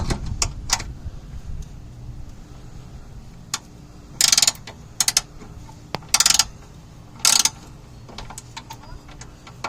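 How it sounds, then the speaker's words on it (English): A small hand ratchet clicks in short rapid bursts while undoing a screw on a family car during a foglight installation, with a few isolated ticks between the bursts, close and fairly loud. "undo this screw here with my little ratchet"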